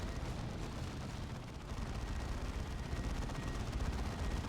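Gunfire in the Dawn of War 2 strategy video game, a dense crackling rattle of rapid shots mixed with heavy booms, continuous and loud throughout.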